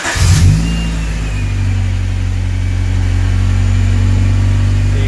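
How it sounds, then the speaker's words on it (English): A 1988–91 Honda Civic engine cranks and catches, then settles into a loud, steady running drone with slight rises in revs, close up and with no talking. "We're gonna fire up the car."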